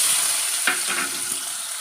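Onions dropped into hot oil with fennel seeds for a potato fry, a steady, fairly loud sizzle with a brief burst as they hit the pan.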